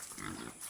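Pigs on a farm where pigs and goats are kept mixed together, giving a faint, low grunt amid steady outdoor background noise in a short moment.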